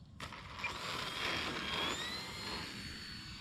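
An E-flite Turbo Timber Evolution RC plane on a 4S battery flies overhead, its electric motor a whining buzz that swells and shifts pitch as it passes, fairly close and with no talking.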